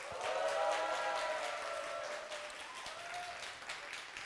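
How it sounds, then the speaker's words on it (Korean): An audience at a Korean political talk event applauds in a steady, continuous wash of clapping that stays fairly distant and soft throughout, easing a little toward the end. "김총수한테 보냈던 박수의 세 배 정도를 부탁드리겠습니다"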